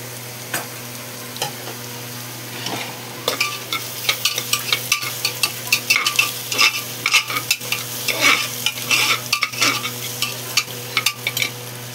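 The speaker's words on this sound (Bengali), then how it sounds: "ডালগুলো ভেজে নেওয়া হবে" Lentils frying in hot mustard oil in a pan, a steady close sizzle with frequent scraping stirs that grow busier and denser over time, with no talk.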